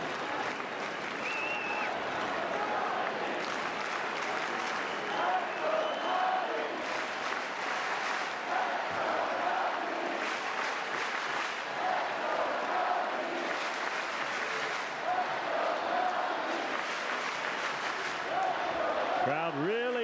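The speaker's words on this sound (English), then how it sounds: "Crowd really into it." Baseball crowd at a Rays at Cubs game cheering and applauding steadily for about twenty seconds, a dense sustained roar of clapping and voices filling the ballpark with a broadcast announcer talking over it.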